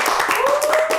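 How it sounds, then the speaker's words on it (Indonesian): A studio audience on a talk show claps in quick, rhythmic bursts, several sharp claps in one second, while a voice carries on over them. "tepuk tangan dulu teman"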